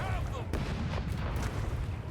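Cannon fire in a turn-based pirate tactical video game: a loud, booming blast with a rumbling low-end tail, followed by a couple of sharper impact thuds, close and dense.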